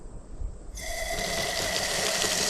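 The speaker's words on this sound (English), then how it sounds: "You hear the pump kicking on." A used water pump at a well whirs to life partway through, jumping from quiet to a steady, loud mechanical drone with a sustained tonal whine.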